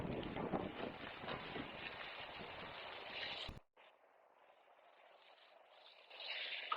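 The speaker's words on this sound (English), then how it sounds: "Real windy day." Outdoors on a windy day, gusts buffet the microphone as a broad rushing roar that cuts out abruptly partway through, then returns weaker and swells again.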